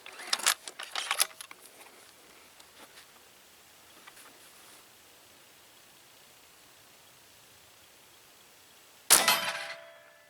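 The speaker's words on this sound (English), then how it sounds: "Let's fire another round through this and see what kind of velocity we get." AEA Challenger .457 caliber air rifle fires a single loud, sharp report near the end, preceded by clattering handling noises and a quiet stretch of faint hiss.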